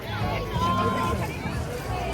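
Continuous crowd hubbub in the busy Chowrasta shopping area of Darjeeling, a popular tourist spot: a dense, even murmur of many voices and footsteps with no single voice standing out.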